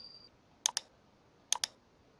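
Two quick pairs of crisp computer keyboard key presses, each pair a double click about a beat apart, close and clear over a quiet room tone, with no one speaking.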